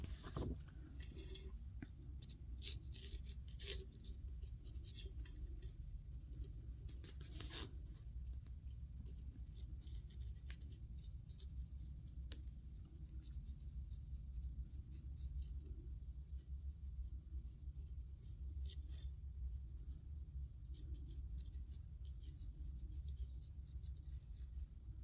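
Pencil drawing on paper for watercolour junk journal artwork: faint, close scratching and rubbing strokes recur over a steady low background hum, with a few sharper scrapes and no talking.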